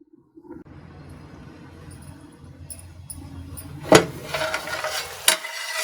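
Village-style country chicken curry (natukodi pulusu) cooking in a covered pot, with a steady low bubbling simmer and a faint sizzle, a sharp metallic clink near the middle and a louder frying hiss toward the end.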